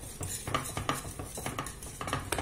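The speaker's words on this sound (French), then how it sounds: "Donc là, je vais touiller jusqu'à ce que mon chocolat blanc il fond complètement" Spoon scraping and clinking against a pot while white chocolate is stirred until melted, a quick series of light taps and scrapes repeating a few times a second, close and fairly soft.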